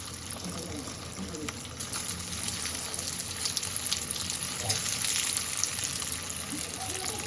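Fish pieces frying in shallow oil give a constant close hiss and crackle, with soft bubbling and faint movement sounds over it.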